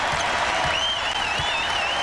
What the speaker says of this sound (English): They stand up and cheer.